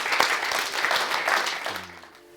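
Applause from a church congregation during a worship service, a dense sustained clapping that fills the hall and then fades away, with a voice starting up at the very end.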